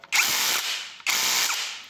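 Two quick, loud ratcheting clicks from the adjustable clutch of an INGCO CDLI205582E cordless drill-driver, heard up close with no talking.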